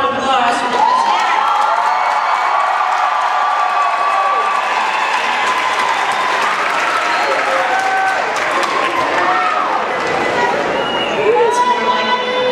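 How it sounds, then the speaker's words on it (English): A graduation audience applauds and cheers for the class of 2019, a dense continuous wave of clapping, whoops and shouting voices filling a large hall. "Let's give another round of applause for this year."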